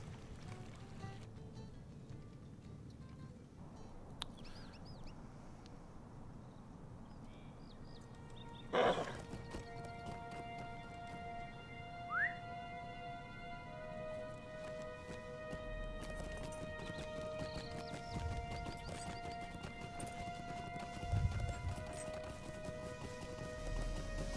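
Horse hooves clip-clopping at a steady pace as a rider travels in a fantasy online video game, close and even, with sustained musical tones playing underneath.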